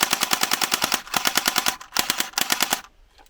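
An ASG AK74 airsoft gun fires plastic BBs in rapid full-auto bursts, loud and close, with crisp mechanical clacks in quick rhythm and short pauses between strings of shots.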